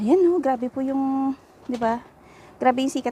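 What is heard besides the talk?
No everyday noises stand out.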